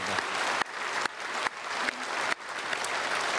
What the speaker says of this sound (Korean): 우리 박수로 크게 축복하겠습니다